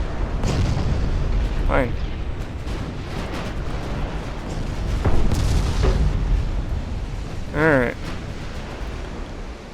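Booming naval gunfire from warships in the naval strategy game Ultimate Admirals: Dreadnoughts, heavy cruisers firing in several deep bursts spread across the stretch, heard beneath a voice talking over the action.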